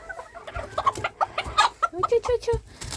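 Rooster and hens on a small poultry keeping, clucking in quick, uneven bursts of short calls, close and fairly loud, with no talk over them.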